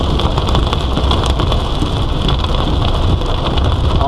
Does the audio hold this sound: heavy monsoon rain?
yes